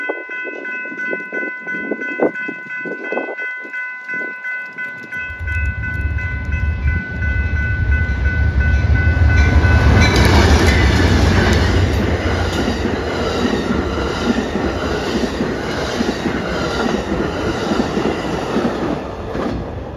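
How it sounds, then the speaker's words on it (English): Amtrak's inbound Southwest Chief passenger train and a long freight train pass close by, starting quiet with faint rumbles, then swelling after about five seconds into a loud, sustained roar of rolling wheels and clatter that continues to the end. "Here comes the inbound Southwest Chief and a big freight."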